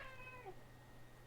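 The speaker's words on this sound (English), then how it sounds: "I don't know if you can hear all that meowing" A pet cat gives one short, faint meow close by in a quiet room.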